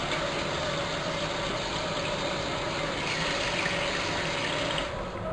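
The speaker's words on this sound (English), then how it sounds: "Self-explanatory, just filling up the water." Water pours steadily into a brewing kettle for a Pilsner, a constant close rushing hiss that holds evenly and then eases slightly at the very end.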